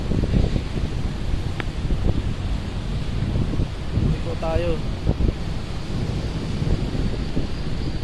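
Wind buffets around a ship off Kenya in rough, deep swells, a constant roaring rush with muffled knocks while people talk briefly over it.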